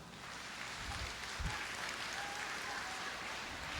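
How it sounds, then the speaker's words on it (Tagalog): A congregation at a spiritual talk claps loudly, a steady wash of applause that sounds somewhat distant and holds at an even level throughout. "pumalakpak ng malakas."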